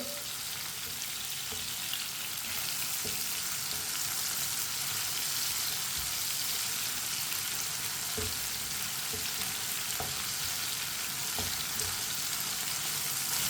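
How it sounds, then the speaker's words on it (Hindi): Tomatoes frying in a pan with green chilies while cooking lauki, a steady close sizzle with occasional soft stirring clicks, continuous and alone without talk. "टमाटर को 1 मिनट के लिए पका लेंगे"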